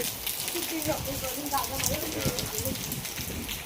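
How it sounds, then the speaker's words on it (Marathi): Rain and wind sweep across a courtyard in the Konkan at night, making a steady, dense hiss of falling rain from start to end, with a voice briefly heard underneath. "बघा पाऊस वारा बघा."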